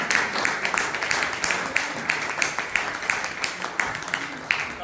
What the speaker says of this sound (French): vous pouvez donner une bonne main d'applaudissement